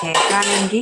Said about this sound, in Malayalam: പാത്രങ്ങൾ കഴുകിയെടുത്ത് എടുത്ത് വെക്കും